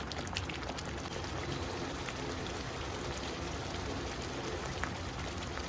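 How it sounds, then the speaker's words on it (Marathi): Hot water is poured into a cooking bangda fish masala, making a continuous bubbling, splashing wash of liquid noise that stays steady and moderately loud throughout. "गरम पाणी जेवढं आपल्याला लागलं तेवढं मी ऍड करते"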